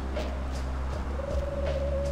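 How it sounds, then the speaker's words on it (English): An owl hoots in Vampire: The Masquerade – Bloodlines, low repeated hoots over a steady ambient hum with a sustained tone in the background. "It's an owl."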